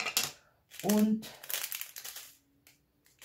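Diamond painting pieces are poured from a plastic bag, giving short bursts of crinkling and rattling rustle with a pause between them, while a person speaks German alongside.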